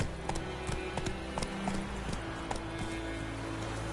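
Horse hooves gallop in The Witcher 3 video game, a steady rapid clip-clop rhythm running throughout at close, moderate loudness with no talk.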